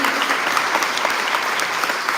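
Applause for a woman named Betty at an evening gathering of a Galician community centre in Montevideo, a dense, steady clapping crowd filling the room without pause.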